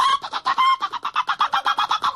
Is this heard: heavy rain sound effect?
no